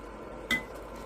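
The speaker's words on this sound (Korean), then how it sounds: "일단 요거 이제 건더기는 이제 한번 건져 볼게요." A single short clink of a utensil against a pot as cooked solids are lifted out of simmered broth for oyster rice-cake soup, close by over a faint steady background hiss.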